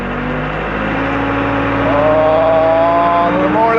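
A road roller engine revs, a steady loud mechanical drone with tonal harmonics that climb in pitch partway through as the throttle opens.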